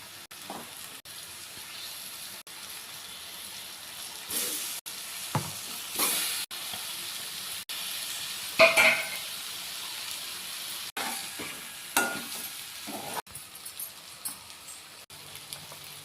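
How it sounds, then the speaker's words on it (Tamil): Eggs added to an onion and tomato masala for a Chettinad-style egg dish sizzle softly in the pan, broken by several scraping stirs and a brief louder hiss, close by with no talking. "இப்போ நம்ம முட்டையை சேர்த்துக்கலாம்."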